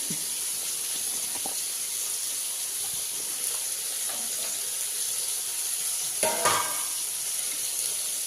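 Potatoes frying in a pan for an Onam curry are stirred, with a steady sizzle throughout and a brief, louder scrape of the spoon near the end; no one speaks.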